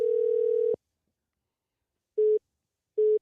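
A phone line tone sounds while a guest is dialed live on air: one long steady tone, then two short identical beeps after a pause, clean and isolated with no voices.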